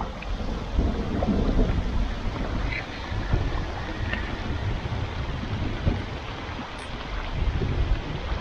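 Steady broadband rush of rain with low rumbling thunder while camping on land on a canoe trip, continuing throughout; no voices.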